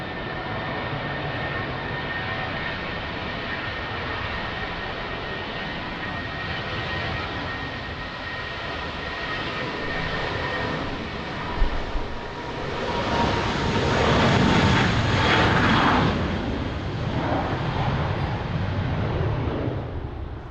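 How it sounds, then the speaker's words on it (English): A Portuguese Air Force KC-390 transport aircraft at Lisbon Airport on a strong crosswind day gives a steady, loud engine roar that swells further toward the end as it passes close, with no voices. "Beautiful KC-390, Portuguese Air Force."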